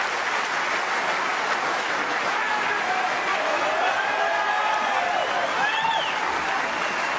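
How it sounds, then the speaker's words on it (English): Sustained audience applause at the World Snooker Championship as Ronnie O'Sullivan wins the title, a steady dense wash of clapping from a large arena crowd, continuous and fairly loud with faint commentary-like tones beneath. "Peter Ebdon applauding Ronnie"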